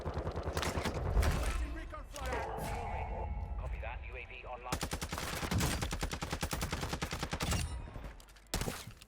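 Rapid automatic gunfire and scattered single shots crackle in close bursts during a Warzone 2 match on Ashika Island, with a dense volley toward the end, as a player talks over the shooting.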